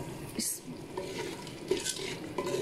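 Whole spices and masala fry in hot oil in a pan while being stirred for mutton trotter curry, giving a close, steady sizzle with scraping stir strokes and a brief clink of utensil on the pan.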